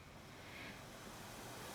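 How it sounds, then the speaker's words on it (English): Ocean surf washes in a steady, soft broadband rush with no distinct breaks, a low continuous wash of waves heard alone, without voices, at a quiet level. "you hear the sound of the waves"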